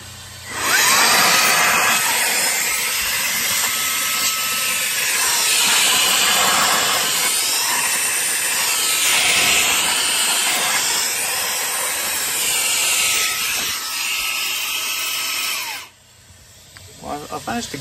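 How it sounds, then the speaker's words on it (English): A HOTO compressed air capsule blasts dust out of a printer: a loud, continuous rushing hiss close by for about fifteen seconds, its tone wavering as the airflow hits different surfaces, then stopping abruptly. "let's see what I can blow out of my printer."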